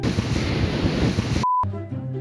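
Surf and wind roar steadily at a beach, loud and close with heavy microphone buffeting, then cut off abruptly near the end, leaving a brief tone and quieter background.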